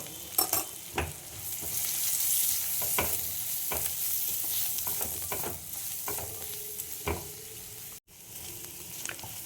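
Turmeric and red chilli powder sizzle with potato and eggplant in a hot pan, a steady frying hiss broken by repeated scraping strokes of a spoon stirring the mix, close and moderately loud with no talk.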